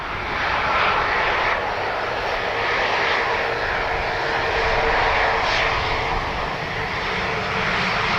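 Delta airliner on approach to land at Dublin Airport, a steady broad jet-engine roar sustained at constant loudness throughout with no voices.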